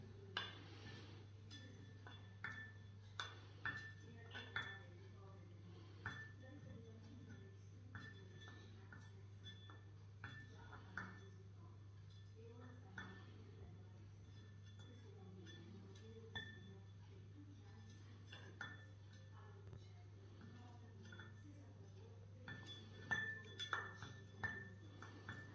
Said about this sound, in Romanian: după ce ați trecut lingura pe bordul paharului